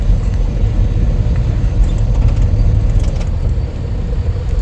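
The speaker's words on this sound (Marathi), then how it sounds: "हे बघा भिवंडीची ट्रॅफिक" Congested Bhiwandi road traffic produces a dense, loud low rumble of idling and creeping engines, continuous and close, with a few faint higher clicks near the middle.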